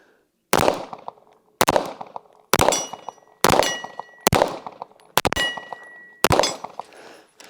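Seven sharp, loud gunshots fired at a steel target, each followed by a ringing metallic clang, spaced roughly a second apart with a short decay after every hit.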